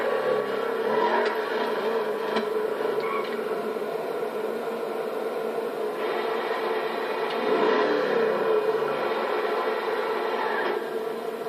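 A steady whirring sports car engine hum from a video game, the Ennis Elegy RH8 in Grand Theft Auto V, holding a constant drone with slight surges.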